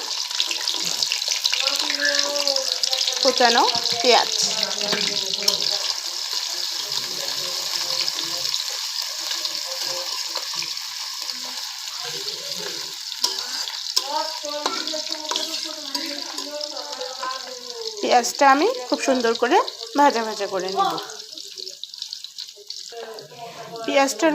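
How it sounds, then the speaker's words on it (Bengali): Cumin seeds sizzle in hot oil while a hilsa fish curry is being cooked, giving a steady, bright hiss that swells toward the end, with a voice talking over it at times. "জিরাটা আমার বেশ সুন্দর ফুটে এসেছে এখন দিয়ে দিচ্ছি আমি বেশ কিছুটা"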